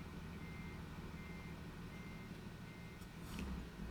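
A truck backing a trailer in the dark in American Truck Simulator, steady engine rumble with a faint reversing beep that surfaces near the end.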